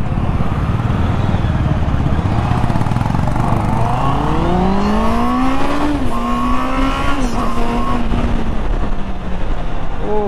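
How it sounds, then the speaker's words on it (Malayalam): A Honda CB650R motorcycle with a 650cc inline-four engine roars while being ridden, its pitch climbing steadily through the gears with brief dips at shifts, loud and close against constant wind noise. "ഇതൊരു ഇൻലൈൻ 4 എഞ്ചിനാണ്, 650cc ആണ്"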